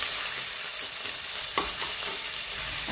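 Chopped onion frying in a pan for a bottle gourd curry: a steady, close hiss of sizzling oil with a few soft stirring knocks, no voices.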